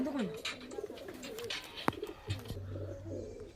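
Low, throaty cooing of a high-flying pigeon close by in a loft, mixed with rustling and faint background noise.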